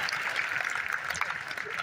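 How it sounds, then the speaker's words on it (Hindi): Audience applause at a poetry gathering (kavi sammelan) at a Dharmgarh Baba temple, a dense steady wash of many hands clapping at moderate level for a couple of seconds. "तालियां जोरदार बजनी चाहिए"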